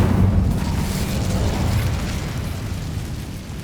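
A roaring whoosh of conjured flames from the Incendio fire spell in Hogwarts Legacy, a loud rumbling burst that starts strong and slowly fades over a few seconds, with no voices.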